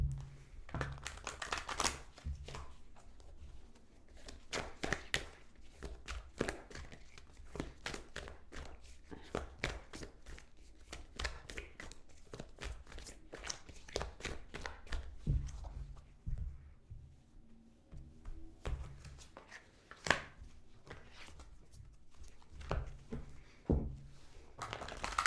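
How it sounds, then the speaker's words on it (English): Tarot cards shuffled over and over, quick papery riffles and taps in a steady stream, close and fairly soft, with no voices. "We're going to shuffle a little bit more."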